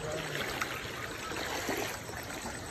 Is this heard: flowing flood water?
yes